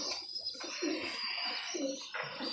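Pigeons kept by fanciers cooing in soft, repeated low calls, moderately close, over a steady background hiss with no talk.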